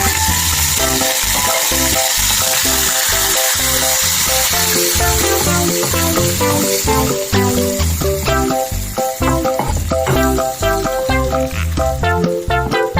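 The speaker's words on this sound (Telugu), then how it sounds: "ఆవాలు చిట్లీలాగా వేసుకోవాలి, లేకపోతే చేదు వస్తుంది" Mustard seeds and dried red chilies sputter in hot oil for a gongura chutney tempering, a dense close crackle of rapid pops and sizzling that grows busier and louder throughout.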